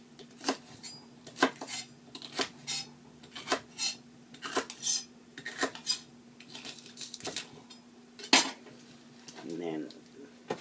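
A knife chops through celery stalks and leaves on a cutting board, with a steady series of sharp, close thuds and clicks at a medium pace.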